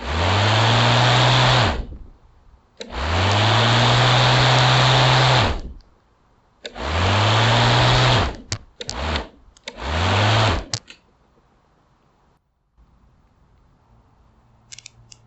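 A Black & Decker electric lawn mower motor with a repaired blade assembly, whirring loudly in several bursts that spin up and wind down with falling pitch, close, ending in quieter handling noise.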